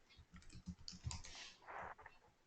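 Typing on a computer keyboard, a quick uneven run of soft key clicks, close and fairly quiet.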